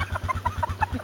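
A blue grouse gives a quick series of soft, low clucks in a steady rhythm, close by and alone, with no talking.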